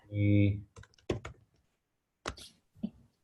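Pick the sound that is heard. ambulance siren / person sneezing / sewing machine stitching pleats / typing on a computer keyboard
typing on a computer keyboard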